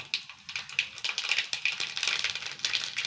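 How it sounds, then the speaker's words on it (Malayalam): Mustard seeds spluttering and popping in hot oil, a dense run of sharp crackles and pops in irregular bursts, close and steady, with no voices. "കടുക് ഇട്ട് കൊടുത്തു"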